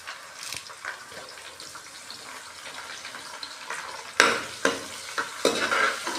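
Whole green chillies and curry leaves frying in hot oil for kadhi, a sizzle with stirring scrapes that grows louder and crackles in bursts toward the end, close by and without talk.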